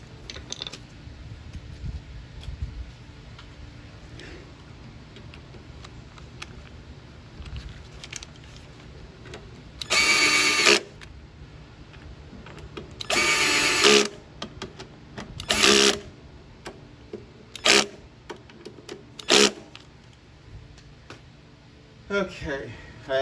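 Several short bursts of a power drill on a torque setting whirring in quick succession, driving carburetor screws on a 2011 Toro Personal Pace mower, each lasting about a second, over a quiet workshop background.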